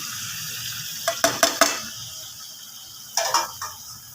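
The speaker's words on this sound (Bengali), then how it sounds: "এবার আমি ম্যারিনেট করা মাংসটা এতে" Marinated chicken hits a hot pan with a low steady sizzle, broken by sharp metallic scrapes and clanks of stirring in two bursts, close up and without talk.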